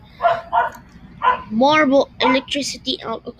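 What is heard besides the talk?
dog barking in the room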